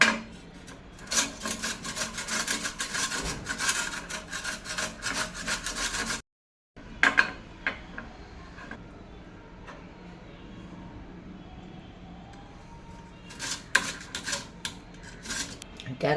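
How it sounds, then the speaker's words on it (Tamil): Carrot grated by hand in a home kitchen, a continuous rasping scrape with quick repeated strokes, a brief pause, then softer scattered rubbing before the brisk grating picks up again. "கேரட் நல்லா சீவியாச்சு."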